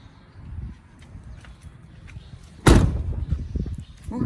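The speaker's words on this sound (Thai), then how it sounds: "ปิดเสียงดังจังประตูนะคะ" A pickup truck door slams shut with a loud, sharp thud, a single close impact followed by a short rumble. Light background noise and movement come before it, and nobody speaks.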